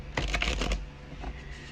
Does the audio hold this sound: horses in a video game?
no